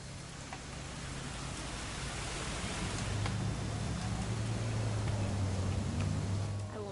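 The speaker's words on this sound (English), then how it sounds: "It's gonna rain the whole weekend, isn't it?" Steady rain in a video game hisses continuously with a low droning hum underneath, fairly faint and even throughout.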